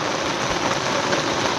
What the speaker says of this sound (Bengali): এত পরিমাণে বৃষ্টি হচ্ছে, পুরো একদম সাদা দেখাচ্ছে